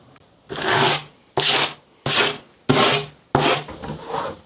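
Five rough, rasping strokes of a saw cutting through 3/4-inch marine plywood for a worktop, each a short burst followed by a brief pause, close and fairly loud.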